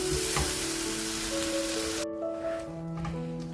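Tomatoes for a chicken masala cook in a pan over a high flame with a loud, broad sizzle that cuts off abruptly partway through, leaving a much quieter bubbling with a faint steady hum.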